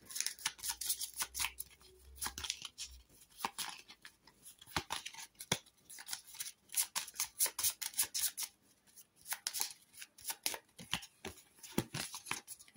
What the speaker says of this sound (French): Donc là, je mélange mes cartes.